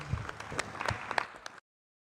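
Brief, light applause from a small audience at a chamber of commerce event, scattered claps lasting about a second and a half before cutting off abruptly.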